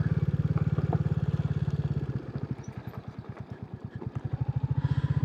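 Royal Enfield Classic 350 single-cylinder motorcycle riding along an off-road track, its engine thumping in a steady, close, rhythmic beat that dips briefly midway and then picks back up, with no talk over it.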